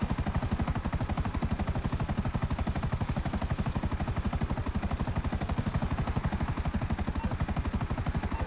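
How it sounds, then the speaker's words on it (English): A helicopter in the game GTA Online makes a loud, steady rotor chop, a fast continuous thumping with a whining engine tone above it, close and without talk. "My chopper sounds like crap."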